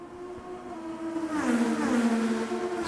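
IndyCar race cars accelerate down the back straightaway at the Honda Indy Toronto street race, engines whining and rising in pitch with a passing sweep in the middle, heard at a moderate distance.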